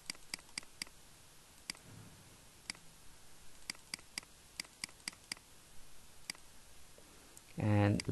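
Computer mouse clicks sound as sharp, dry ticks, some single and some in quick pairs, spread across a quiet room, with brief speech at the very end.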